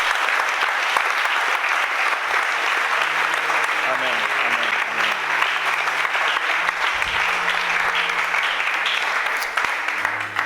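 A church congregation applauds to acclaim the Lord with dense, sustained clapping throughout, steady and loud, with a low voice or hum beneath.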